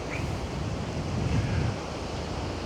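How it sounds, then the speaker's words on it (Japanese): Sea waves washing along the Okinawa coast, a steady close roar of surf mixed with wind buffeting the microphone, with no voices. "またしても海だよ"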